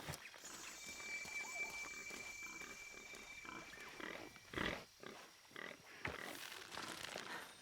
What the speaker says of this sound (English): I never really knew what kind of sound capybaras made. I didn't think it was like snorting.